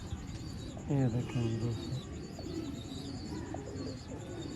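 Breeder pigeons coo nearby in a short, low burst of throaty notes, followed by quieter murmurs, while someone speaks over them.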